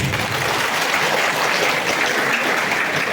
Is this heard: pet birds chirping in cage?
no